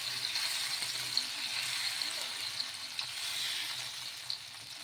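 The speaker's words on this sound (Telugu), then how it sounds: "ఒక గరిట పిండి అనేది వేసుకొని ఇలా పెద్దగా స్ప్రెడ్ చేసేసుకోవాలి" Rice flour dosa batter spreads across a hot pan with a steady, close, hissing sizzle and a few faint scrapes, with no talk.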